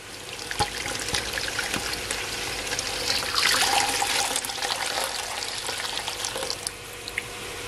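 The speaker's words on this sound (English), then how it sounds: "So now I'm gonna add some water from my kettle." Water from a kettle pours into a cooking pot of Jamaican stewed goat with tomato, scallion and carrot, a continuous splashing, gurgling stream heard up close with no talking.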